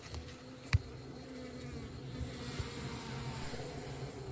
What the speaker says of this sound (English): Now that the number of bees has noticeably increased, we are finally taking a peek inside the hive